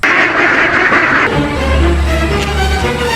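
Ducks quack loudly and close at hand, a dense flock calling over one another with raspy, overlapping quacks that keep going without a pause.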